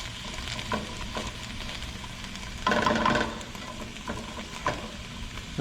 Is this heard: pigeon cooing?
no